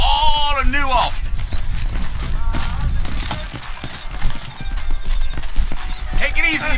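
Horse hooves clip-clop steadily in the Western video game Red Dead Redemption, a brisk close rhythm of several horses under spoken dialogue, with a short whinny near the start and again at the end.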